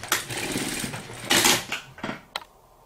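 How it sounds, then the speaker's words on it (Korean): A sewing machine runs in short bursts, stitching back and forth several times to reinforce a seam on a home-sewn wall air conditioner cover, with brief pauses between loud runs. "그래서 밀어 넣은 채로 박음질 해주세요. 튼튼하게 여러 번 왔다 갔다 해주세요."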